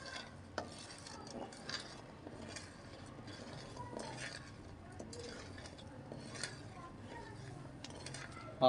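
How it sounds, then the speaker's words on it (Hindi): Carrot murabba with sugar stirred slowly in a pot, soft scraping and light clinks of a spoon against metal over a faint sizzle, quiet and close, with no speech. "आस्ता आस्ता इसको हिलाते रहना है ताकि अच्छे तरीके से जो चीनी है वो मिक्स हो जाए"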